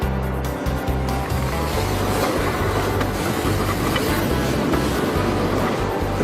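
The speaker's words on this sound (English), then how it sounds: "As the train makes its way to the summit" A gold rush era train hauls up the White Pass route in Alaska toward the summit, a loud, steady rumble of wheels and cars rolling without pause and without voices.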